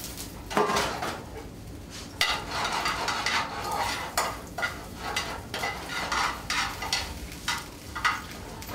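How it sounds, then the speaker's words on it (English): Fine egg noodles toast in hot oil while being stirred in a pot, a soft sizzle beneath repeated scraping and clinking strokes of a utensil against the metal, close and fairly regular. "So we're gonna kind of toast them in the oil as well."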